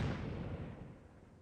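Artillery fire and explosions in the siege battle game Conqueror's Blade: a single heavy boom with a long rumbling decay that fades over about a second and a half, fairly faint.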